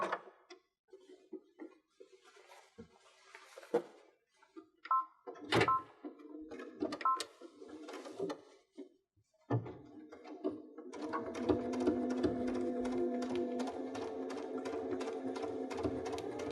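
Sewing machine running regular straight stitching on a summer picnic dress, first in short stop-start bursts with fabric handling clicks, then a steady continuous whirring run of needle strokes.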